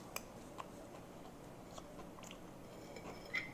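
Someone bites and chews a chicken cordon bleu dip with a crunchy panko crust, giving a few soft, close crunches spaced across a quiet stretch with no talking.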